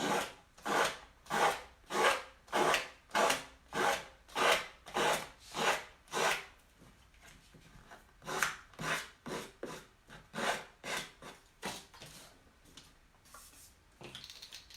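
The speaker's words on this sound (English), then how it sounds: "working in long movements, start sanding down your paper" Rhythmic rasping strokes of a nail file sanding a paper edge, about twenty even back-and-forth passes close up, with a short pause midway.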